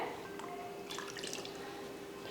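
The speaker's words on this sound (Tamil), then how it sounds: "நல்லா மிக்சி ஜார கழுவி தண்ணியை சேர்த்துக்கலாம்" Rinse water from a mixer grinder jar poured into a Nagercoil-style fish curry, a brief splashing trickle in the middle of a quiet kitchen background with a faint steady hum.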